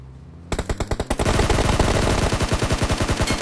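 Automatic gunfire in PUBG Mobile, a headshot volley: after a brief quiet start, a loud, rapid string of sharp shots rattles on steadily for about three seconds, close and dense, with no talking over it.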